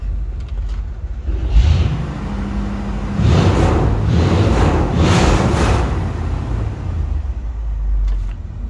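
A 1964 Ford Galaxie 500 engine is revved in a few short blips, swelling from a low idle rumble to louder surges and settling back, with no voices.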